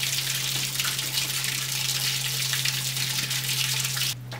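Water from a garden hose runs steadily into the cooling system of a Ford Transit van during a coolant flush, a close, continuous splashing hiss that drops slightly near the end as the hose is moved.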